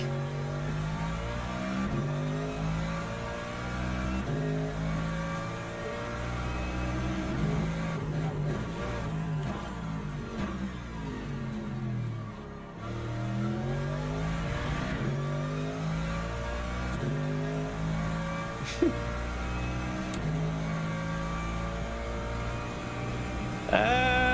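A race car engine in Le Mans Ultimate, on a wet Bahrain circuit, revs and climbs through gears in a loud, continuous in-car drone, pitch sweeping up and down with shifts for over twenty seconds.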